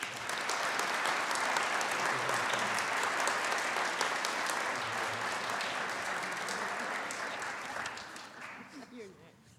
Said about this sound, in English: Let's give a round of applause for Tony Maluski.